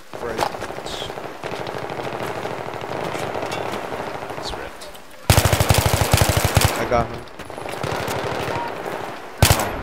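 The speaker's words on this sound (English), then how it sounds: "I'm getting shot from bridge." Rapid automatic gunfire in Battlefield 3 during a 6v6 match on the Grand Bazaar map, sustained bursts with sharp louder volleys midway and near the end, loud and close, with people talking over it.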